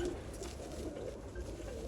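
A Kake Kile breed pigeon coos softly nearby, low throaty burbling repeated over a quiet background.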